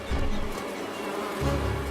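Bees buzz softly around nearby, a faint hum with a low drone swelling near the start and again at the end, no voices.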